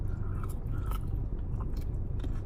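Crunchy pizza crust from Pieology is bitten and chewed close to the mic, with a few crisp crunches over steady chewing noise and no talking.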